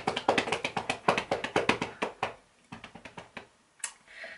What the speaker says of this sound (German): hört ihr das, wenn ich auf meinen Bauch so klopfe?